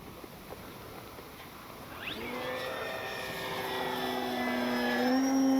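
An FMS 1800mm Ranger RC plane climbs away on its maiden flight, its electric motor whine rising in pitch and growing steadily louder and nearer over a few seconds.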